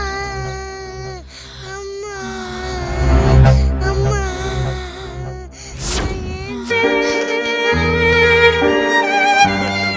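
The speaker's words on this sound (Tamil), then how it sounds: "என்ன குழந்தை அழுற சத்தம் கேக்குது?" An infant cries over a dense music score in a Tamil romance film, the wails rising and falling with the orchestra, loud and sustained.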